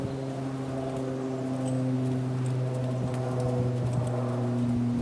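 Hooves of a mother-and-daughter pair of horses clip-clop at a walk beside a steady low mechanical hum, the light irregular footfalls scattered through the whole stretch with no talking.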